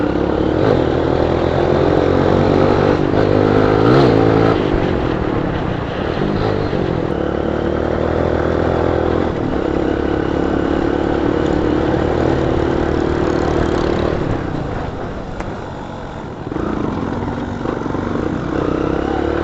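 A motorcycle engine drones steadily on a rough hill road, loud and close, with its pitch shifting as the bike labors over uneven ground and easing near the end.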